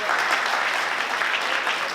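Dense, continuous applause from an audience at a race opening ceremony, a steady, full wash of many hands clapping at once with no pauses, with speech faintly mixed in.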